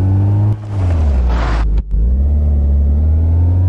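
A car engine in a car transport truck video game hums steadily and loudly with a deep low drone, briefly dropping out twice before resuming its even idle-like rumble.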